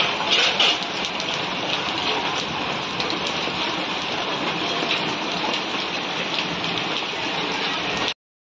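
Steady rain pours down outdoors where dishes are left out to get wet, a dense, even hiss of drops on surfaces that continues unbroken until it cuts off abruptly.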